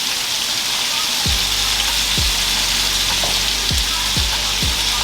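Food frying in a pan as it is stirred, a loud steady sizzle throughout with several low knocks of the utensil against the pan.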